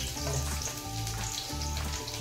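Cumin seeds sizzle steadily in hot oil in a pan, the first step before garlic for vangyache bharit, an eggplant dish. The frying hiss is loud and continuous, with no voices over it.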